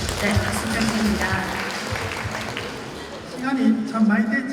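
Clapping from the audience at a Korean Confucian leaders' convention award ceremony, moderate and steady, partly masked by voices talking and murmuring over it, swelling again toward the end.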